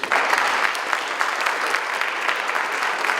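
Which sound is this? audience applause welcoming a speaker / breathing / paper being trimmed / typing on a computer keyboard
audience applause welcoming a speaker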